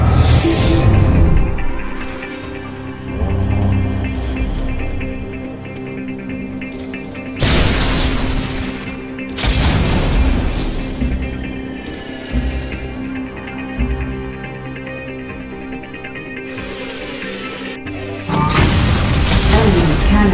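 Heavy booms of cannon fire in the space strategy game Sid Meier's Starships recur every few seconds over a throbbing background score, some blasts loud and sharp, others duller and farther off.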